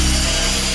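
Cutting off a metal piece for a guitar pedal board, a continuous harsh, dense grinding-rasping noise, loud and close, holding steady throughout the brief stretch.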